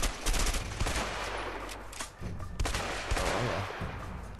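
Rapid gunfire in the co-op action game A Way Out, dense bursts of automatic shots and single cracks rattling loudly and almost continuously, with brief pauses between volleys.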